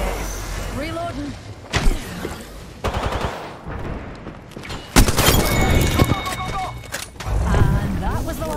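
Machine-gun bursts and single gunshots crack out in a battle royale video game, several loud sharp volleys spaced across the scene while a player talks over them.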